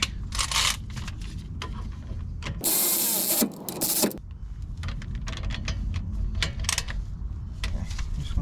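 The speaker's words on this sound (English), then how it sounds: "I'm just going to use my electric ratchet to run all this stuff down real quick" An electric ratchet runs down the front brake bolts on a Silverado High Country, giving a loud, close burst of whirring motor noise for about a second and a half, set among clicks and handling noises.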